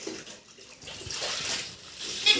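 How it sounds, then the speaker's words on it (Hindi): Clothes being washed by hand at home, with water swishing and splashing steadily, a soft continuous wet rush that rises and falls, close and moderately loud. "अभी मैं धो रही हूँ कपड़े"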